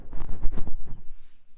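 A foam rubber windscreen being pushed back onto a microphone, a brief close muffled rustling and bumping handled right against the mic, fading out quickly.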